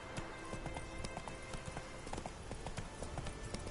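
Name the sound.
horse Roach galloping in video game Witcher 3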